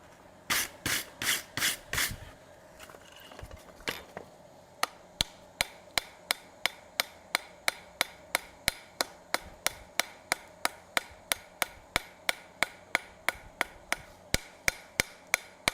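Hammer forging of hot metal for a maple leaf bowl: a few heavy ringing blows, then a long steady run of sharp, evenly spaced hammer strikes on the metal, close and loud, with no talking.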